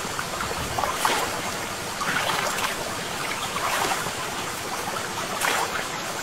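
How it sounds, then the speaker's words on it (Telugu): Rushing flood water in a forest during a heavy storm, a steady loud wash of churning water with recurring surges swelling every second or so, with no voices. "ఆ వర్షానికి పెద్ద వరదలు వస్తాయి."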